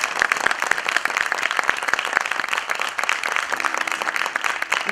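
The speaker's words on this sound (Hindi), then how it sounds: "एक एक व्यक्ति 10 की ताकत महसूस करते हुए करतल ध्वनि से ताली बजाकर इनका आभार व्यक्त करें।" Audience applause fills an auditorium at a cultural music festival, a dense, loud, steady clapping from a large crowd that holds for several seconds without letting up.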